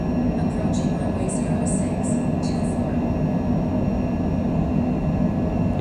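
A small airplane makes its takeoff roll down a 5,000-foot runway at Northeast Philadelphia airport. A steady, loud engine roar and rumble fills the cabin, with brief high chirps partway through.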